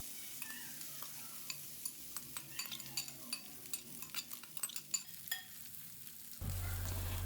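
Tempering for tamarind rice pulihora frying in a pan, a soft sizzle under repeated light clinks and scrapes of a spoon stirring against metal, followed by a sudden louder, steadier sizzle near the end.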